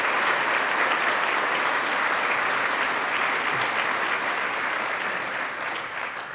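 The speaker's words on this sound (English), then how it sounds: "So let's give a round of applause to our county executive, Mark Polenkars." Sustained, dense audience applause for a county executive at a Western New York budget announcement by the governor, a steady wash of many hands clapping that fades slightly at the close.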